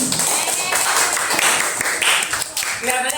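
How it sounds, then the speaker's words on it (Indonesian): An audience bursts into applause during a motivational talk, dense clapping throughout with a voice speaking over it. "Oke, itu tepuk tangan dulu."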